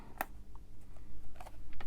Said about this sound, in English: let's cut it here because I want all this pretty